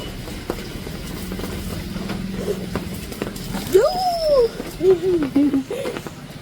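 A young puppy whimpers nearby with a few rising and falling whines, then shorter wavering cries, over a low background hum.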